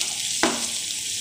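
Peanuts frying in a hot pan give a steady close sizzle, broken once by a single sharp crackle as a nut pops.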